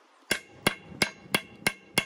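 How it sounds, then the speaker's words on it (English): A ball peen hammer tapping a U-joint into a Polaris Ranger prop shaft, six crisp metallic strikes at a steady, even pace, close up with no talking. "A ball pin hammer works pretty good."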